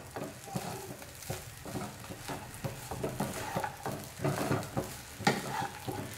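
Upma being stirred in a hot pan, soft scraping and light sizzling in an uneven repeating rhythm, close and fairly quiet with no talk.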